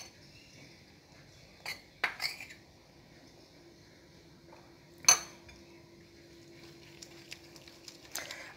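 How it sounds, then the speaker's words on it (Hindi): Gram flour batter is whisked in a bowl for Punjabi kadhi, giving a few scattered, light metallic clinks against the bowl amid quiet, with no talking. "विस्क के साथ मिक्स करते जाएंगे।"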